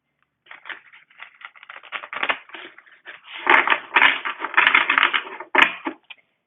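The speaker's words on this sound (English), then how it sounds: "I'm just going to shuffle again really fast" A deck of tarot cards is shuffled fast and close, a dense run of papery riffles and flicks in bursts, louder in the second half, with no voice over it.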